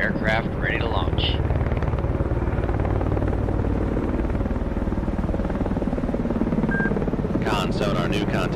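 Helicopter rotor and turbine drone steadily and loudly in the Cold Waters video game as the aircraft readies to launch from a warship's flight deck, with radio-style voices talking over it and a brief burst of chatter near the end.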